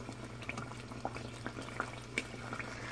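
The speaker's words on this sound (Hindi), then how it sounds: "नान को फ्लिप कर लिया बड़ी एहतियात के साथ क्योंकि ऑयल के छींटे ना उड़े।" Naan fries in hot oil in a pan or kadhai, with a steady sizzle broken by scattered sharp crackles and pops.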